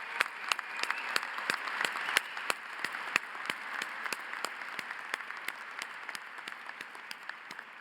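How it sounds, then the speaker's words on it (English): Audience applause fills an awards ceremony for the University of Vermont College of Arts and Sciences: a dense, steady wash of many hands clapping with crisp individual claps popping through, sustained for the whole stretch with no talking. "let's give her a round of applause in absentia."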